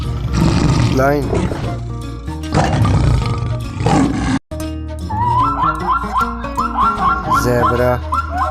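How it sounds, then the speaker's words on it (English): A lion roars in loud, deep, repeated bursts, followed by higher, tonal animal calls in the second half. "Lion."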